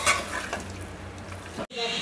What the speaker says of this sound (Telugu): ఇలా చికెన్ మొత్తం వేసుకున్న తర్వాత మిక్స్ చేసుకుందాం. ఇలా బాగా కలుపుకోవాలి.